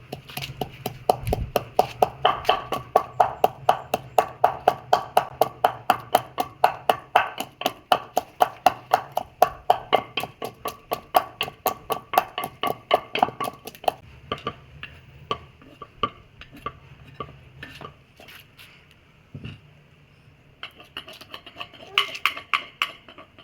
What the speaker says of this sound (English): Now let's pound pepper.